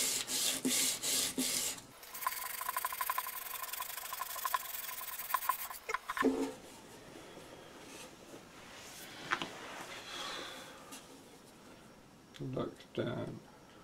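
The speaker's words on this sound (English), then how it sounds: "I have to sand down this edge." The wooden edge of a ukulele being sanded makes close, continuous rasping and rubbing strokes, alternating with softer scraping and handling noises, and a person talks during parts of it.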